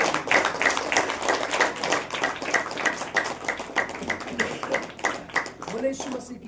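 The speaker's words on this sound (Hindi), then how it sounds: "जोर से ताली बजाते" A church congregation at a Saturday prayer meeting claps loudly in a fast, steady rhythm, many hands together, with voices mixed in throughout.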